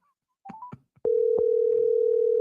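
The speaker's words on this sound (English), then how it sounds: "let me call you back, Kathleen" A telephone dial tone sounds, a steady continuous hum that starts abruptly after a few clicks and short beeps as a call is placed back, loud and alone.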